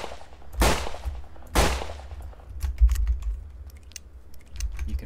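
Two sharp gunshots ring out in a Wild West video game, evenly spaced and loud, followed by a scatter of quieter clicks and small impacts over a low background hum.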